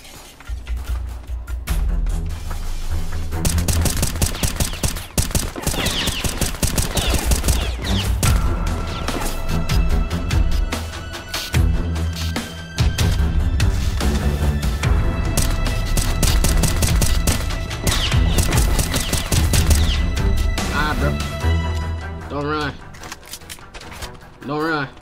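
Rapid gunfire crackles through a Roblox street shooting game set in the South Bronx trenches, with dense bursts of shots and clattering impacts running almost nonstop, loud and close, under an energetic game soundtrack.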